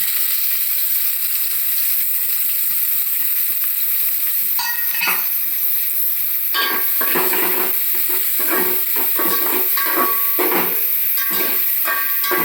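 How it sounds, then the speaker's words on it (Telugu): Shahi jeera, green chillies and onion frying in hot oil for a Telangana-style chicken curry, with a loud, constant hiss and bursts of crackling and spatula scrapes from the midpoint onward, with no voices. "ఆయిల్లో ఇప్పుడు ఈ సాజీరా, పచ్చిమిర్చి, ఉల్లిపాయ"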